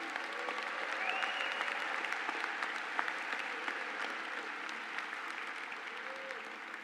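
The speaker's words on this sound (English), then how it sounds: "Please give yourself a round of applause." Sustained applause from a large graduation audience at an engineering college commencement ceremony, steady and dense for several seconds with a few faint voices mixed in.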